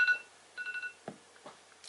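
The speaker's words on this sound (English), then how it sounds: "So there's my alarm going off." A phone alarm goes off indoors with short bright electronic tones, a group of beeps early on followed by a few softer clicks and taps.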